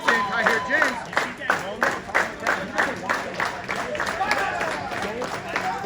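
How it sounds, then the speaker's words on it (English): A small independent wrestling crowd claps in a steady rhythmic unison beat at a live show, while commentators talk over the clapping. "I think they're clapping for Macintosh to get some offense here."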